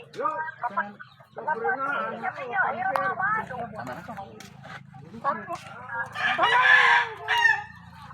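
Chickens cluck and squawk close by while people talk over them; one louder, drawn-out call rises near the end.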